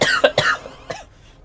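A close, loud burst of several rapid coughs in succession, then one more cough after a brief pause, trailing off into quiet.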